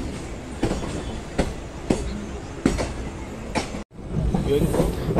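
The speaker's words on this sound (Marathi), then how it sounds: "आत्ता वाजलेत 9:15 आणि पनवेलवरनं आत्ता निघाली ट्रेन" An express train pulls out of Panvel station with a rhythmic clickety-clack of wheels over rail joints, loud and close from inside a carriage, with a sudden brief dip near the end.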